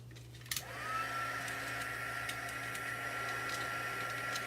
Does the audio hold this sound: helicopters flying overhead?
no